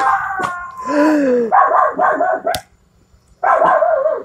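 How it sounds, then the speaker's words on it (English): A dog barks several times up close and loud, a rapid run of barks with a whining yip, then a brief pause before one more bark. "Shut that dog up."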